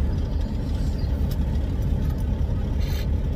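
Semi truck with a 13-speed manual transmission, loaded light, rolling to a stop: a steady low engine rumble and road noise from inside the cab, even and continuous with no distinct shifts.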